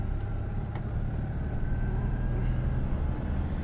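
Heard from inside a moving Citroen Ami 8 Break, a steady, loud engine drone runs continuously with a low rumble and no talking.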